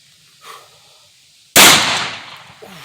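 A 3-inch shotgun shell fired one-handed outdoors goes off as a single loud, sharp blast that decays over about a second, after a short stretch of quiet.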